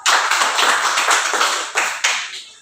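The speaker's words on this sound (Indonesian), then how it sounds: "Bagus, tepuk tangan." Classroom applause as students clap their hands for a group presentation, a lively burst of close, bright clapping with a few stronger accents, trailing off at the end.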